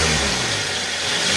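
A Toyota Avanza engine with a blown head gasket revs loudly and continuously up close, a steady mid-pitched roar with no one talking.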